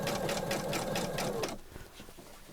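A sewing machine stitching around a fabric bag runs in a fast, steady mechanical chatter for about a second and a half, then stops, leaving faint handling sounds.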